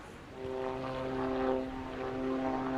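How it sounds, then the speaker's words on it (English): An autogyro flies low and close during a seaside airshow display, its propeller engine droning loud and steady with a buzzing tone that swells slightly as it passes. "the Autogyro is clear to display much closer and a little bit lower to you than all the other aircraft"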